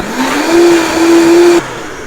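A kitchen blender whirs steadily for about a second and a half, blending vegetables with a bouillon cube for chicken tortilla soup, then cuts off abruptly with a loud, close motor hum.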